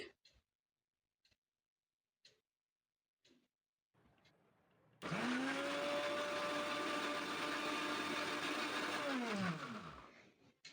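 An electric mixer grinder blends banana with milk into a smoothie. A few faint ticks come first, then the motor whirs loud and steady for about five seconds before winding down.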